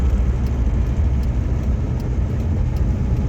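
A steady, close engine and road rumble fills a moving car's cabin at an even pace, a continuous low drone with no talking.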